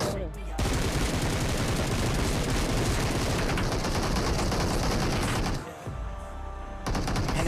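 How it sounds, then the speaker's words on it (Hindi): Continuous rapid gunfire from a squad shooter video game, loud and dense for several seconds, then a brief dip and a final burst of shots. "हम लोग अंधाधुन फायर ही कर रहे थे उनकी कार के ऊपर"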